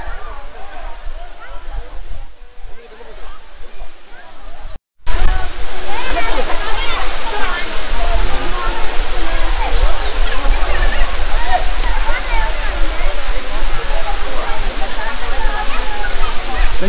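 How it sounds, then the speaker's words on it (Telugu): Penchalakona waterfall roaring close by, a loud, continuous rush of falling water that drops out for a moment and then returns at full strength. "Penchalakona water falls"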